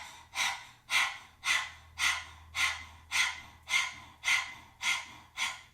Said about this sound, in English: just stick your tongue out and start panting like a dog